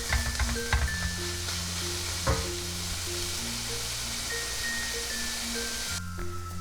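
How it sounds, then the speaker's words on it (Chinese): Minced pork fries over high heat in a pan, a steady close sizzle with faint spatters and scraping, no talking. "开大火把肉末铺平，先把一面煎到焦香。"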